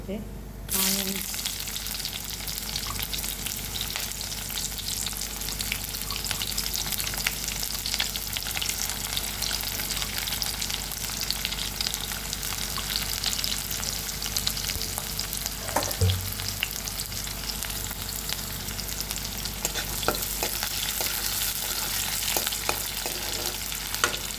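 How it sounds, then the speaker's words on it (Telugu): Mustard seeds and cumin splutter in hot oil as the base for an ivy gourd (tindora) fry. A steady, close sizzle crackles throughout, with occasional sharper pops and stirring sounds. "ఆవాలు జీలకర్ర చిట్టపట్ట పెట్టి చిట్టపట్టలాడాలి"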